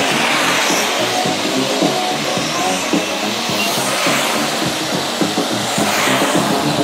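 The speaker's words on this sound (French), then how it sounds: "Alors ces motos, évidemment, sont équipées de moteurs électriques." Electric RC motorcycles race around an outdoor track at Saint Martin de Crau, a steady loud buzzing whine with surging and sliding tire noise throughout.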